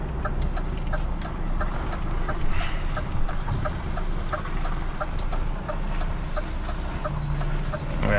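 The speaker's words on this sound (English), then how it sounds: "the gearbox hasn't been fixed on this DAF, as you can probably hear" A DAF lorry with a faulty gearbox drones steadily from the cab, a dense low mechanical rumble with a repetitive ticking and rattling running evenly throughout.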